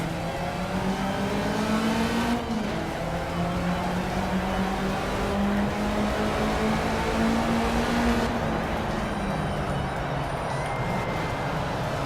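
Several race cars in a Touring Class 2 Classic field roaring off the grid together at Hockenheim Short in Project CARS, with a steady, loud engine drone and rising whines as the pack accelerates away.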